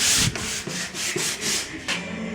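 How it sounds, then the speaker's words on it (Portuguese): Coarse sandpaper rubbed by hand over a wooden piece being distressed to look like reclaimed timber, close and loud, in a series of rhythmic back-and-forth strokes with brief pauses between them. "Com a lixa grossa, vai lixando a peça toda."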